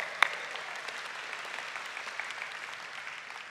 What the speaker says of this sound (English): give my mom a round of applause.